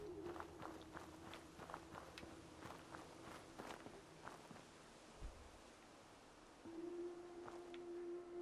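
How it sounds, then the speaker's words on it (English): Character footsteps in the video game Fallout 4, a faint, irregular series of soft steps over a low ambient drone, with no speech. "is it you just stomping the ground?"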